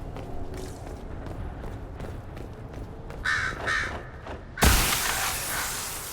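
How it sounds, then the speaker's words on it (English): Crows caw repeatedly in Dragon Age Inquisition as birds land on slain Qunari to feed, the harsh calls steady over a rumbling ambient bed before a sudden loud thump-like burst near the end. "It's a beautiful touch to have the birds landing on the Kunari to eat them"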